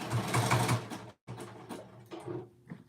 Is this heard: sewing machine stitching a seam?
yes